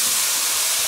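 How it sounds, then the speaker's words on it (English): Granddad 114 bourbon hits a hot pan in a steady, loud burst of hissing sizzle that fills the short moment without pause, with no voices over it. "we're gonna throw that in the pan and hope for the best"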